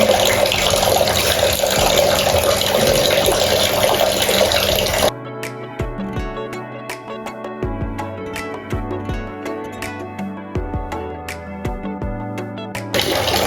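Liquid being poured while homemade dish soap is mixed, with a steady, loud rushing stream for about five seconds that then stops, followed by quieter sloshing and light clinks of containers.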